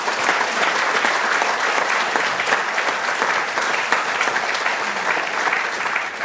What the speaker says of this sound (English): Let's give a round of applause to all of our sponsors.